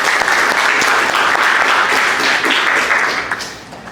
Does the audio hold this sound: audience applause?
yes